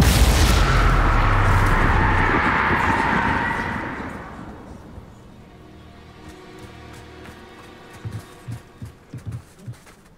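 A loud blasting-spell explosion from Hogwarts Legacy, the Confringo fire spell, booms up close in a broad roaring burst and decays over a few seconds, then is followed by a series of faint, soft thuds.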